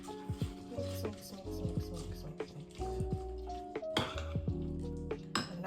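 A spoon stirs a thick banana, oat and carrot bar mixture in a bowl, giving repeated scraping and clinking strokes against the sides, close and fairly quiet.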